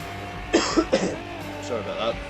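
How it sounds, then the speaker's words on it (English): A person coughs several times in quick succession at close range over low steady background noise, followed by a soft throat-clearing grunt. "Been having a bit of a cough lately."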